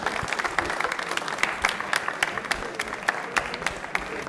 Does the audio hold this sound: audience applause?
yes